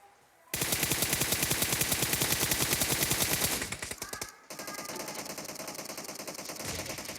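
Rapid automatic gunfire in the video game PUBG Mobile rattles continuously for several seconds, then breaks off and gives way to a denser, steady burst of fire, loud and close.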